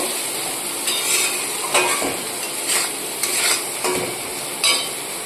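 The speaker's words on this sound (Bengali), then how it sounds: "এক চামচ লঙ্কা সব কিছু উপকরণ দিয়ে একবার ভালো করে কষিয়ে নেব" Ginger paste, chili and other spices sautéing in a pan for a vegetarian soybean and pointed gourd curry: a steady close sizzle broken by several scraping stirs at a regular pace, with no voices.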